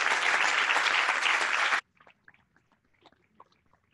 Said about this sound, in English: Okay, so a round of applause for the